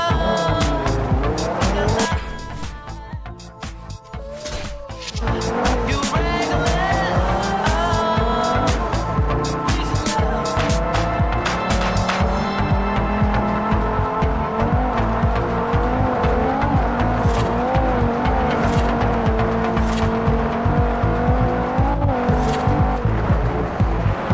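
A BMW in the racing game Forza Horizon 5 drives downhill with a loud, continuous engine roar, shifting revs and repeated tire squeals and skids throughout.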